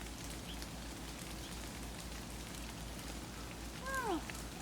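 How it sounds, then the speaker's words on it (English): A light afternoon rain shower sprinkles outdoors, a soft even hiss of drops on surfaces, with a faint bird chirp near the end. "Oh, afternoon rain showers."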